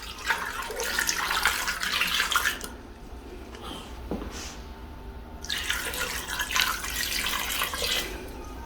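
Water pours into a pressure cooker holding butternut pieces for soup, a steady rushing splash that fades into a short pause and then comes back just as strong, with no talking.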